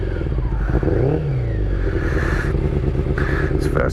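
Motorcycle engine started for the first time, a loud rough clattering idle with blips of revving and rising, falling engine pitch, close up, with scraping and crackling mechanical noise and no voices.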